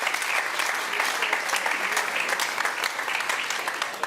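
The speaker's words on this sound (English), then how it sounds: "Can we have a round of applause?" Audience applause at the CHL hockey league draw, a loud, sustained burst of many people clapping at an even level throughout.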